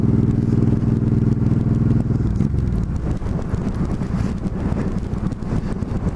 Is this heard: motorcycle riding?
yes